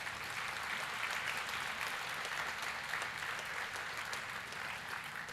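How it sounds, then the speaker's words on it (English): Audience applauding parents at a university parents and family orientation, a dense, steady wash of many hands clapping that holds for several seconds with no voices on top. "Can we applaud our parents once more?"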